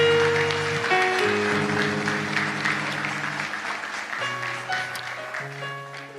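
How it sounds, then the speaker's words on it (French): Loud, dense applause from an awards ceremony audience rolls on continuously, layered over sustained musical chords that fade slowly. "nous applaudissons très, mais alors très très fort"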